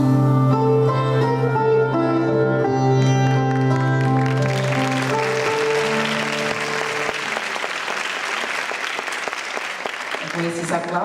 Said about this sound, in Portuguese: Com esses aplausos